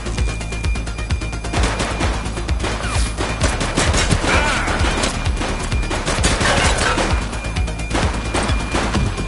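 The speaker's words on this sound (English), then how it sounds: "Shots fired!" Dense, sustained gunfire in the video game The Precinct: loud, continuous rapid shots and machine-gun bursts packed together for the whole stretch, with no pause.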